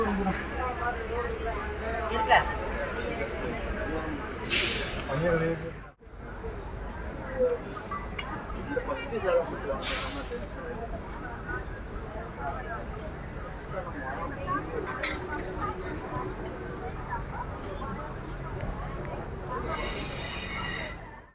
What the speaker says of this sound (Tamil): ஷார்ப் எயிட் தேர்ட்டி ஃபைவுக்கு நம்மளோட டெமோ ட்ரெயின் டிபார்ச்சர் ஆகுதுங்க திருச்சிராப்பள்ளி ஜங்ஷன்ல இருந்து